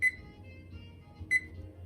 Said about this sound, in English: I'm setting my timer for 9 minutes.